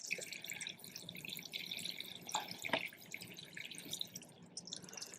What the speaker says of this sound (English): I am watering it, and I did put plant vitamin in it.